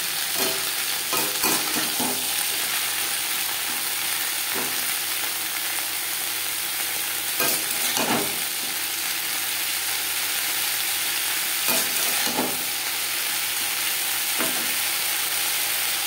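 Green beans with grated coconut stir-frying in a pan over a gas flame, a steady close sizzle broken by several sharp scraping stirs of the spatula spaced through the stretch, no talk.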